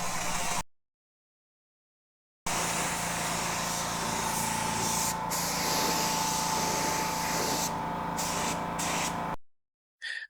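A low-pressure, low-volume paint gun fed by a Harbor Freight compressor sprays car paint with a steady, close hiss lasting several seconds, a faint hum underneath, framed by brief silences.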